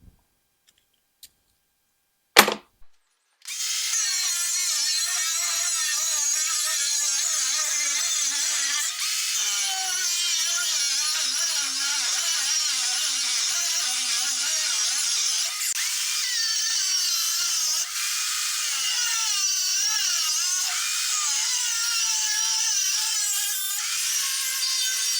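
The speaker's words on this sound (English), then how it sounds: "We'll grab out the old 5-inch grinder, cut her out, and we're into it." A 5-inch angle grinder cuts a steel knife blank, starting with a few sharp clicks before a loud, continuous high-pitched whine and grinding screech that holds steadily for over twenty seconds, close up and with no talking.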